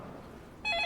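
Hospital ward telephone starting to ring abruptly after a quiet murmur of background noise, its electronic trill beginning clear and fairly loud for the last moment.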